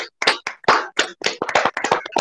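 Webinar participants clap together over an online call, a quick run of sharp, loud, irregular hand claps lasting a couple of seconds.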